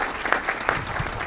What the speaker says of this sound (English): Big round of applause for them as well.